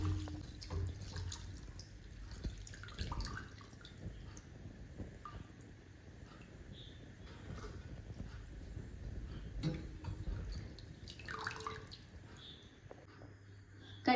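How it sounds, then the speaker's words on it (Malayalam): Cold tap water runs and splashes steadily over freshly boiled homemade noodles in a sink, with a few clattering knocks from handling them, fairly close, no talking. "നന്നായിട്ട് പച്ചവെള്ളത്തിൽ കഴുകി വെക്കുക."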